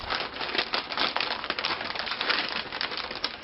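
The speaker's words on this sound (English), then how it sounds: "They pull and press the paper around their head." Brown butcher paper pressed and crumpled around a person's head, giving a steady, close crinkling rustle with dense crackles throughout and no talking.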